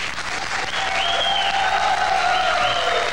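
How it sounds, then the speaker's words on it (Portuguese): Steady applause from a television studio audience for a folk dance group, dense and sustained throughout with a crowd wash and faint tonal sounds beneath. "Mas vamos aplaudir, gente."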